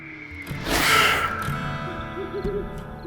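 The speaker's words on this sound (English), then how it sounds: "A shape-shifting witch known as La Lechuza, the owl" An owl hoots over a steady, droning background, a single swelling call standing out early and followed by softer, fainter tones.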